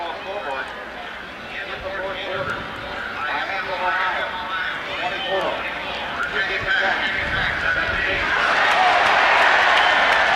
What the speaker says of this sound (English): Crowd reacting to Virginia Tech trailing by a touchdown.